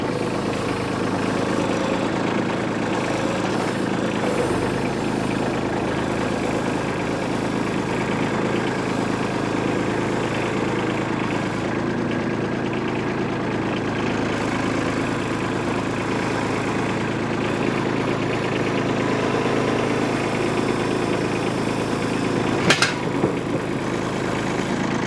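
A Kubota B2601 compact tractor engine runs steadily at a low, even idle-like drone as the tractor pulls up, loud and close with no talking, plus a brief clank near the end.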